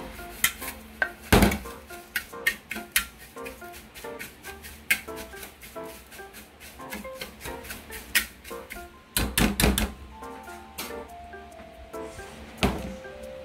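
Unsweetened coconut flakes mixed in a bowl, a series of irregular clinks and scrapes of a utensil against the bowl, close and moderately loud, with brief pauses between strokes.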